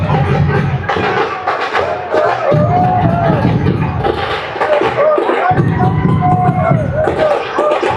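A large outdoor crowd at a welcome for Prime Minister Modi in New Zealand, with Khalistani protesters present, chants and cheers loudly throughout, voices swelling and overlapping in a continuous roar.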